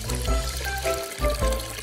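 Water pours into a cup, a continuous close splashing rush that briefly breaks and resumes, with no talk over it.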